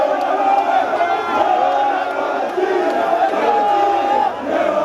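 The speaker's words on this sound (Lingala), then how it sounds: "Le chef de l'État est là, sous les acclamations." A large crowd cheers and shouts continuously for President Felix Tshisekedi during his visit to the University of Kinshasa, a dense roar of voices with rising whoops throughout.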